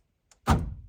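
Power door locks on a 1988 IROC-Z Camaro actuating: a faint tick, then a single solid, close mechanical thunk that rings briefly and fades.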